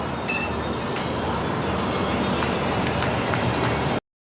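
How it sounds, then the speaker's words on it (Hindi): A train pulls out of Lucknow Charbagh station, giving a steady close rumble of rolling wheels and carriages with faint rhythmic clicks throughout. "खूबसूरत सा डिपार्चर हो रहा है अपना लखनऊ चारबाग स्टेशन से"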